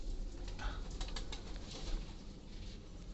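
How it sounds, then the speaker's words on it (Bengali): Pigeons kept in a pigeon house on a farm, with soft wing flutters and faint cooing over a steady low background rumble, close by and continuous. "ঘরে অনেকগুলো কবুতর আছে,"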